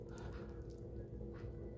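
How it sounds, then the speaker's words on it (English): Dish bubbling and sizzling in a skillet, heard close-up as a steady low bubbling bed with faint crackles, alone without voices. "I just wanted to take you down and see how it's bubbling and give you a close-up"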